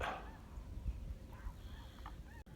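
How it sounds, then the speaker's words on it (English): A flock of geese flying north over a pasture after snow melt, honking in scattered calls at a moderate distance above steady outdoor background noise. "A lot of geese flying north."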